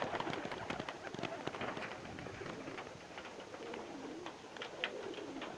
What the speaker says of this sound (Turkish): Bakın oynak kuşlar.